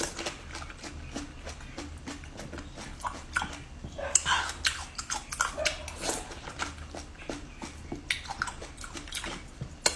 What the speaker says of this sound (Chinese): 大口吃才过瘾